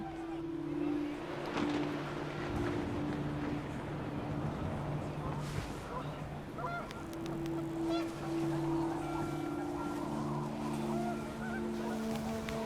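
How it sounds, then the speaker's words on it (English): Panicked geese honk repeatedly with flapping in the video game What Remains of Edith Finch, their steady calls riding over a dense, continuous game backdrop of wind and ambience. "The wind picked up and panicked geese appeared and quickly went"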